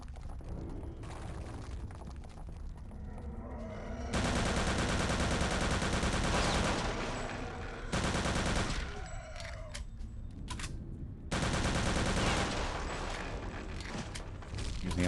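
Loud, sustained bursts of automatic and rapid gunfire from Return to Castle Wolfenstein, several heavy volleys separated by short lulls of game ambience, with no talk over them.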